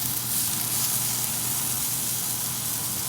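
A buttered grilled cheese sandwich cooking in a pan, a steady, even sizzle of hot butter holding at constant loudness close by, with no talking and no other sounds.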